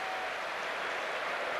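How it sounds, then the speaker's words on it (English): Tennis crowd in Munich applauding both players after a three-set match point, a broad steady wash of clapping heard from a distance, fairly quiet and unbroken. "Well, enormous applause for both players."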